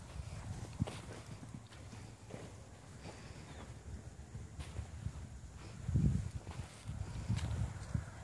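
Hooves of a medium pony thud in a soft rhythmic clip-clop as it canters and gallops around an arena, fairly faint, swelling louder toward the end.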